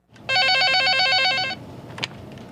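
A telephone rings with a single long electronic trill of rapid warbling tones for over a second, followed by a brief click and faint background hiss.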